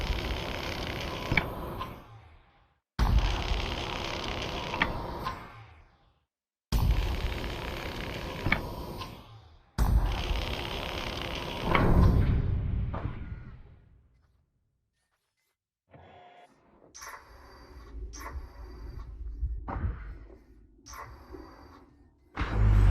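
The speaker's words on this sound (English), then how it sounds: "Access hatch located. Looks like I'll have to cut my way in." Cutter tool slicing open an access hatch in the video game Lone Echo 2: four long, loud bursts of harsh grinding hiss separated by short gaps, the last trailing into a low rumble, followed by softer mechanical clanks and hums.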